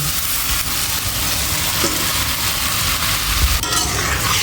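A fish head being added to a pan of spices fried with ground coriander for mung dal, giving a steady, loud, close sizzle with a faint stir or scrape near the end and no talking.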